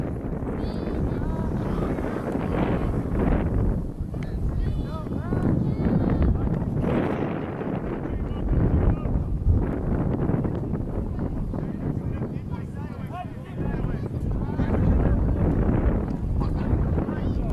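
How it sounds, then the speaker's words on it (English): Wind blowing hard across an open field during an outdoor ultimate frisbee game, heard as a steady, loud rushing roar buffeting the microphone throughout. "Now it seems like the wind is coming directly from our back, straight across the field."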